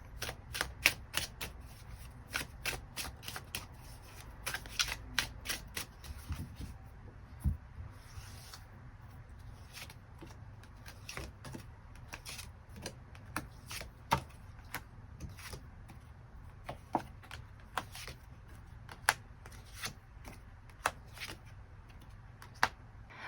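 Tarot cards being drawn and shuffled at a reading table, a steady run of crisp riffling flicks and snaps, some louder taps standing out, close and alone with no voices.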